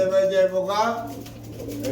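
A pair of pigeons at a market coo close by in a short, steady run, with voices murmuring underneath.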